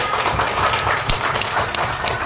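Applause from a group of people at a school gathering, a dense, steady patter of many hands clapping at moderate loudness, continuous for the whole stretch.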